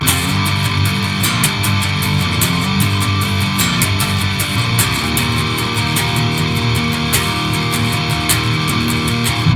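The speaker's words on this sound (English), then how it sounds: "then the distortion kicks in and it sounds like this" Heavily distorted electric guitar playing a riff, a dense, loud, continuous wall of sound with steady rhythmic chugging and no talking.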